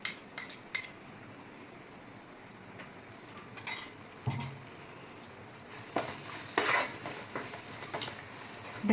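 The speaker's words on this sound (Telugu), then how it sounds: "చూడండి, ఇప్పుడు మనం ఈ పేస్ట్ని ఇందులో కలిపేసుకున్నాం." A spoon stirs spice paste into fish curry simmering in a pan for Godavari-style fish pulusu, giving soft sizzling and scattered scrapes and clinks of utensil against metal, near and fairly quiet, with no talking.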